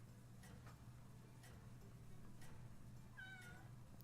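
A house cat meows faintly once near the end, over a steady low hum and quiet periodic ticking in an indoor room.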